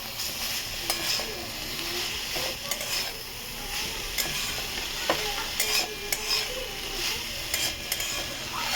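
Broccoli fries with black pepper in a pan over low gas, a steady soft sizzle under repeated scraping and clinking of a spoon stirring against the pan, close and alone.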